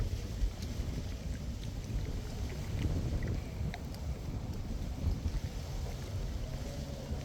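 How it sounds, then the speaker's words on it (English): Low, rumbling wind gusts buffet the microphone steadily, with faint outdoor ambience and no voices. "Kind of a cool, windy day for that"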